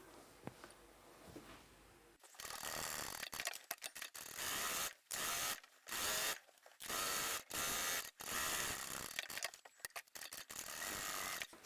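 A sewing machine stitches around a large fabric bag in repeated loud, close bursts, each lasting about half a second to a second, broken by short pauses as the fabric is turned.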